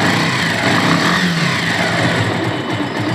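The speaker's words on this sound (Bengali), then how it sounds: "এখন আমি বাইকটি চালু করব এবং ইঞ্জিনের সাউন্ডটি আপনাদের শোনাবো" A just-started motorcycle engine idles close to the microphone with a steady, loud, buzzing putter that holds even throughout, and no one speaks.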